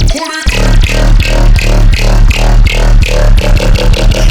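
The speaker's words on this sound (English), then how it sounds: "we are going to find out how to synthesize this squelchy jump up bass that sounds like this" A loud, gritty, squelchy jump-up drum and bass synth made in Serum plays a fast repeating pattern over punchy drums, driving and continuous.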